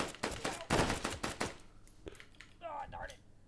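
Rapid bursts of gunfire crack out in the opening second and a half of Hot Dogs, Horseshoes & Hand Grenades, loud and close, then give way to quieter handling noises and a voice talking.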